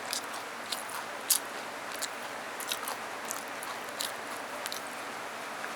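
A child eating Ruffles potato chips, with soft crunchy bites and chewing scattered through the clip over a steady background hiss. The sounds are close and fairly quiet, with no speech.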